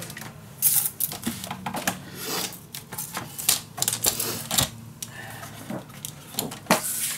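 Scrapbook paper for a mini album being cut, heard as a series of sharp, irregular clicks and snips up close, spread across several seconds with no voices over them.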